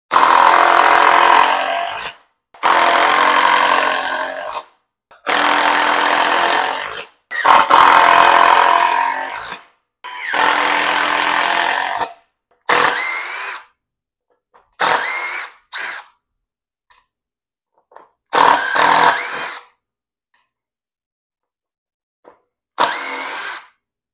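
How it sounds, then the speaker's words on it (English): Older impact driver sinking five regular decking screws, heard as a series of loud, close hammering bursts of about two seconds each with short pauses between, then shorter, sparser bursts toward the end. "We're just going to drive in 5 regular decking screws here"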